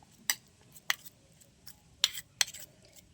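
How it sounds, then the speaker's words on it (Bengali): A spoon stirs and whips a creamy homemade curd face pack mixture in a small bowl, giving a handful of sharp, light scraping clinks spaced irregularly over a quiet background. "তাই ভালো করে একটু ফেটিয়ে মিশিয়ে নিতে হবে 3টে উপকরণ একসাথে।"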